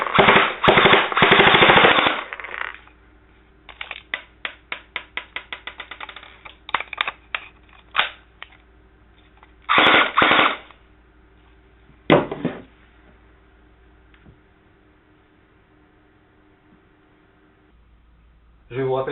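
A Tokyo Marui Scorpion VZ61 airsoft replica fires several close, sharp, rapid mechanical bursts, the longest at the start, then shorter bursts and single shots separated by quiet gaps.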